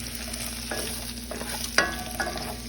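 Sliced chicken and a mixed pepper and onion blend fry in a pan, a steady sizzle running throughout, with a few sharper clatters of stirring around the middle of the stretch.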